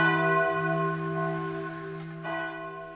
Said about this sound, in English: The bells you hear are ringing to warn the people to evacuate the city